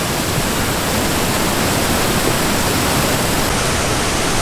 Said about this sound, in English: 100-foot plus waterfall.